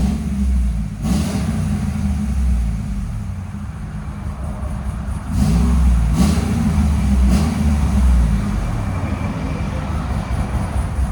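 A cammed GMC Sierra 6.2L V8 with headers and a Valvetronic exhaust, valve closed, rumbles with a deep, lopey idle that swells slightly midway, steady and fairly loud up close.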